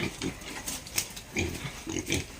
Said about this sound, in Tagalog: huwag pilitin kasi natatakot yung baboy